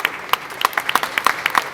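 Scattered applause at a boxing post-fight press conference, a handful of distinct, fairly close claps in an irregular rhythm, short and sparse rather than a full crowd ovation.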